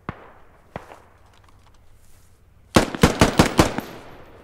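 AK rifle fire in the tactical shooter Squad: two isolated sharp shots, then a quick burst of about six loud, close cracks in rapid succession.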